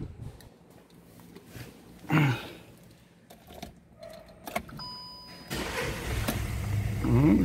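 A car engine cranks and catches, starting with a short burst followed by a low steady idle, fairly faint and close, with scattered clicks and handling noises around it.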